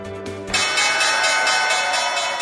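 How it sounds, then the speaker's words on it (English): A stock market opening bell rings out in a sharp metallic clang, its bright tone ringing for a couple of seconds. "time for our opening bell report"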